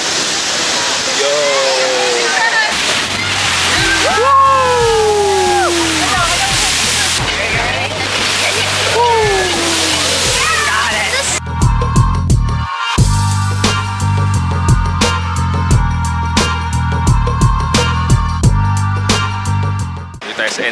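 Sea water surging and crashing at the La Bufadora blowhole near Ensenada, a loud, continuous rushing roar with bursts of spray, while people cheer and shout excitedly over it and music briefly plays.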